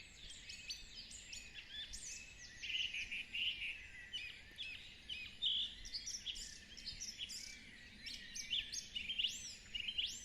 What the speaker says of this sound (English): So listen for the birds behind us